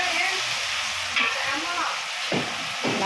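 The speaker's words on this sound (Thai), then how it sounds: "ก็จะผัดหมูให้สุกก่อนนะคะ" Pork sizzles as it is stir-fried in a hot pan, with a continuous close hiss and brief scraping stirs near the end.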